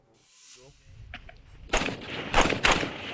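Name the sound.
gunfire from U.S.-supplied M4 rifles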